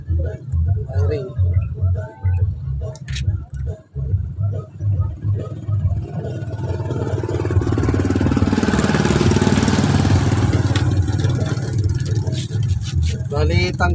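A vehicle engine with a buzzer and wiring problem runs with a steady low rumble, building to a louder, sustained roar midway; someone talks over it at first.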